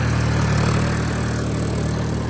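A Mahindra tractor engine running hard at around 1700 rpm as it pulls away, a dense, steady loud engine drone with a harsh mechanical rasp.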